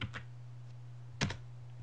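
A few quick keystrokes tap on a computer keyboard, faint and close, with short clusters of clicks over a low steady hum.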